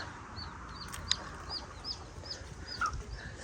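Hens and a rooster in a small farm flock, soft repeated clucks and short calls spaced through the moment, with one brief sharper peck-like sound and a low ambient background.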